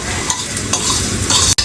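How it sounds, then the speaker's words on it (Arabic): Rice and vermicelli sizzle as they are stirred in a frying pan, with a steady hiss and scraping strokes of a spoon up close, ending in a sharp clack. "كل ما بتشوحي الرز بالشعريه كل ما بتاخدي حبايه الرز بتاعتك مفروله وبتكون حلوه"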